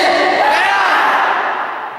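Audience at an open political debate shouting a greeting chant together, a loud sustained roar of many voices that fades slightly toward the end.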